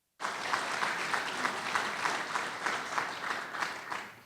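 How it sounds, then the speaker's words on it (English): An audience at an evening gathering applauds a board member, steady dense clapping starting abruptly and holding at an even level for several seconds before easing off at the end. "Round of applause."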